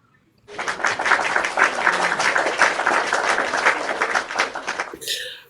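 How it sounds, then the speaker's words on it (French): Renewed audience applause at a gathering in Gabon, starting sharply after a brief quiet, holding dense and steady for about four and a half seconds, then stopping as a voice begins. "Applaudis encore."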